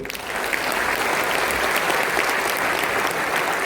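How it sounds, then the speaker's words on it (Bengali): A full meeting-hall audience at a teaching seminar claps together, dense sustained applause that holds at an even, loud level throughout. "তাই নিজেদের জন্যই একটা হাততালি"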